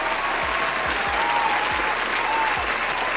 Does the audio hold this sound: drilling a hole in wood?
no